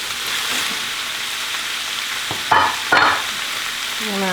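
Sliced zucchini fries in a hot pan, giving a steady sizzling hiss broken by two short, louder stirring bursts near the end.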